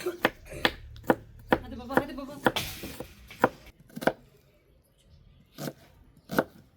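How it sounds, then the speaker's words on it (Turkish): A knife finely chops onions on a cutting board, a quick run of sharp taps that pauses briefly, then a few more strokes near the end. "5 tane soğanımızı bu şekilde küçük küçük ince ince doğradım"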